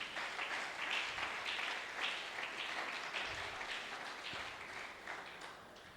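Congregation in church applauding God, a steady, fairly faint wash of clapping that carries on throughout.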